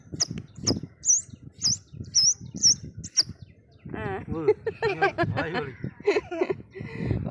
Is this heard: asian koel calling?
yes